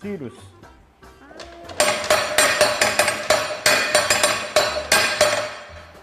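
A voice speaks briefly, then a mechanical cinema sound-effect device fires off a rapid series of sharp, loud clattering cracks imitating gunshots, close by and relentless.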